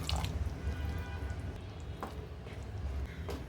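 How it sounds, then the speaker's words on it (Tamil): Water drips and splashes into a pan of cooking masala for tamarind curry, soft wet squishing with faint bubbling, close up and fairly quiet, with no talking. "இப்போ ஜாரில் கொஞ்சம் தண்ணி விட்டு அந்த தண்ணியையும் சேர்த்துக்கிறேங்க."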